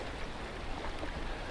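River on the Appalachian Trail flowing in a steady broadband rush, close and continuous, with no voices.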